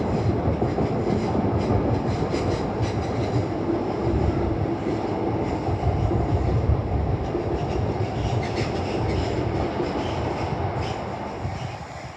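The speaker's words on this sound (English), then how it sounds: "London Northwestern Railway service to Watford Junction" A London Northwestern Railway service to Watford Junction runs past Primrose Hill in London, a loud, steady rumble and clatter of wheels that fills the whole stretch before easing slightly at the end.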